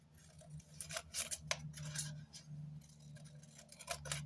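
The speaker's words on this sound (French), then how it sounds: "Moi, je découpe." Scissors snip through paper while a paper flower is being cut out, a string of crisp close cuts at an uneven pace with short gaps, quiet and without talk.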